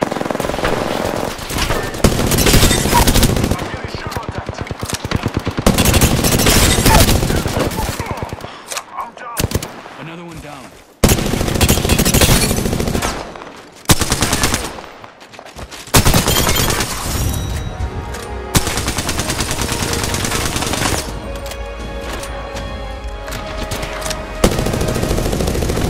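Heavy video game gunfire rattles almost nonstop, with loud machine-gun bursts and rapid shots broken by a few brief lulls, and a voice is heard faintly at moments.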